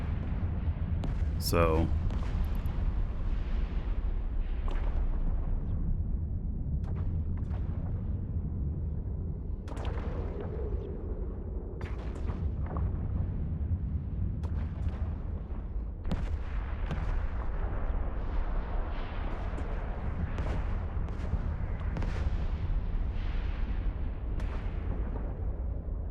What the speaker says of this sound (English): it'll auto-fire only if you are aggroed. Yeah, that's what these missiles are all about.